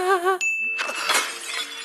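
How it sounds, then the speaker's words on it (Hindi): A phone smashes through a pane of glass in a film scene, giving a short burst of shattering with tinkling shards under a sustained high ringing tone and cinematic sound. "ये फोन कांच फाड़ के निकल गया"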